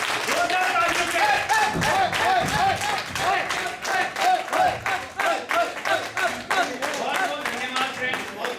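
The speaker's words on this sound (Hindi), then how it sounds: "मैं चाहूंगा सीएलसी वाले इनके लिए खूब जोरदार तालियों से इनका स्वागत करें।" Audience at a cultural program at a coach leadership centre clapping loudly, a dense, irregular patter of many hands with some crowd voices mixed in, pulsing on and off over several seconds.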